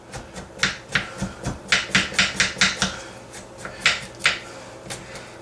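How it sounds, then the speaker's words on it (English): A spoon scraping the skin off ginger, a close series of short, sharp rasping strokes in quick succession, pausing briefly before a few more, with no talking. "You use a spoon and you scrape off the skin"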